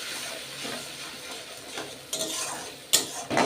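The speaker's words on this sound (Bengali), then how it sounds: "এবার ভালো করে মশলাটা কষিয়ে নেবো" Masala of Kashmiri chilli powder, turmeric and chopped tomato frying in a pan while being stirred, a steady close sizzle with scraping stir strokes and a few sharp utensil clinks near the end, without talking.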